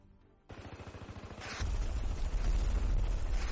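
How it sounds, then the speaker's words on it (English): Low, muffled explosions rumble in the distance toward the airport in Kyiv, a rapid thudding pulse giving way to a sustained deep roar, with no voices. "I hear now time after time the sounds of explosions"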